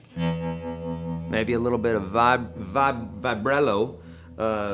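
Electric guitar loop played through reverb with a touch of vibrato and no delay, sustained chords followed by bright, wavering picked phrases at steady loudness.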